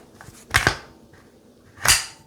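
A Gen 4 Glock pistol is cleared by hand. The slide gives two sharp metallic clacks about a second apart, close up, against a quiet background with no voices.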